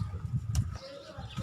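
Pigeons of a breeding pigeon fancier on a rooftop coo softly, with low, repeated calls close by and muffled voices and background noise underneath.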